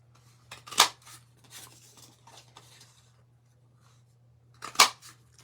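Scissors snip out small paper stamp pieces at a crafting table, two sharp close cuts about four seconds apart with quieter paper rustling and handling between them over a steady low hum.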